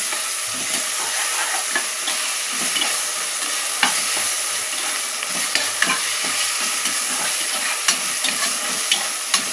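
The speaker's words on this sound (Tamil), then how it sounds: "இதையும் போட்டு இஞ்சி பூண்டு பேஸ்ட்டோட பச்சை வாடை போகிற வரைக்கும் நம்ம நல்லா வதக்கிக்கலாம்." Ginger garlic paste fries in a pan with a constant bright sizzle and hiss and a few faint stirring taps, steady and close throughout, without speech.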